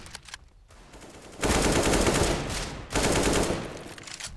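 Gunfire in Counter-Strike on the Inferno map during a competitive match: a quiet opening, then two loud, dense bursts of shots with a short gap between them, close and with no voices over them.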